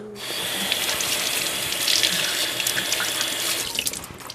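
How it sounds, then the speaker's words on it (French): Fruit kefir grains are rinsed under a running kitchen tap, a steady, loud, close rush of water splashing into a sink that holds continuously throughout. "Et je rince."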